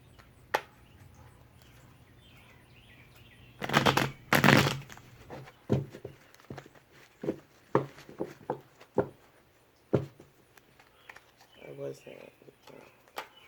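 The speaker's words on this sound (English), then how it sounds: "Alright, one more shuffle." Tarot cards are shuffled in a few bursts of riffling, followed by scattered soft taps and slaps as they are handled in a quiet room.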